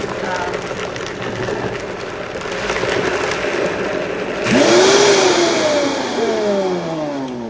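A kitchen blender runs loudly nearby, its motor whirring steadily, then surging upward in pitch partway through as it speeds up and keeps spinning.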